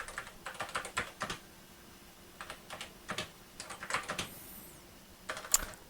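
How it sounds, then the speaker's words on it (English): Keystrokes on an Apple Lisa 2 computer keyboard, close and fairly quiet, coming in irregular bursts of quick clicks separated by short pauses, with a brief high squeak partway through; no talking. "we'll just type a little bit of information in there"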